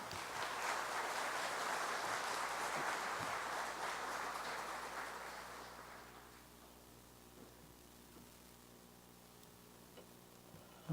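A church congregation claps together to welcome the pastor to the pulpit. Steady, dense applause fills the room for about six seconds, then fades out, leaving a quiet hall.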